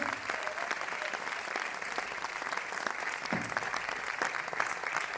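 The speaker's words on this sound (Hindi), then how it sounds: "मैं चाहूंगा एक बार वीएमसीएम के लिए जोरदार तालियां" A seminar audience in India gives loud, sustained applause, a thick continuous roar of many hands clapping at once that carries evenly through the whole stretch with no pause.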